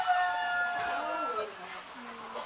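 Chickens in a farm chicken yard call during morning feeding rounds, with a drawn-out crow-like cry and lower clucking, close and steady, while a person talks.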